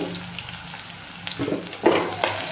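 Crushed shallots and onions drop into hot oil in a pan for a village-style okra fry, giving a close crackling sizzle with sharper bursts of spatter as they land and are stirred.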